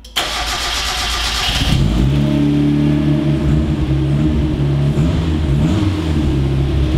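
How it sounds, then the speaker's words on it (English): A turbocharged Mazda Miata engine cranks briefly and catches, then settles into a rough, uneven idle with a lumpy, wavering low rumble that stays loud and close throughout. "turn on the car."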